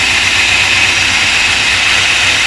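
Car engine running steadily with a whining, strained power steering pump, a constant loud hum and hiss with no breaks and no voices.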